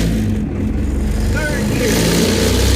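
A pickup truck powered by a Harbor Freight Predator 212 6.5 hp engine drives along, its small engine droning steadily and loudly with a low, throbbing hum and slight pitch shifts, heard throughout as the truck moves.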